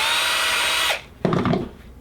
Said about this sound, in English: We'll drill out this piece here so that the bolt slides through easily.